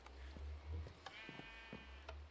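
Sheep bleating on a sheep farm in Minecraft, several short game bleats in a row that are near and clear, with low background noise under them.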